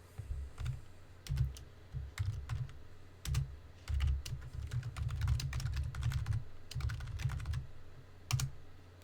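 Terminal commands typed on a computer keyboard, with close, irregular bursts of key clicks and thumps, short pauses between runs of keystrokes, and no voices.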